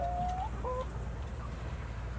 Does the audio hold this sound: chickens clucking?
yes